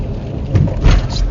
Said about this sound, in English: But it's raining again.